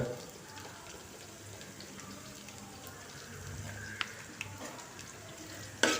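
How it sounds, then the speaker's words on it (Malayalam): Garlic fries in oil over a medium flame for a carrot pickle, giving a faint, steady sizzle with a few soft clicks of a stirring utensil near the end. "അപ്പോൾ അതിൻ്റെയൊക്കെ ഒരു ഒരു അഞ്ച് സെക്കൻഡ് ഒന്ന് എണ്ണയിൽ കിടന്നൊന്ന് ഫ്രൈ ആവട്ടെ"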